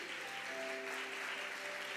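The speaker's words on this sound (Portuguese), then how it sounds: "Queria que você aplaudisse a Jesus aí." A church congregation applauds together in a dense, continuous wash of clapping, with faint sustained musical tones underneath.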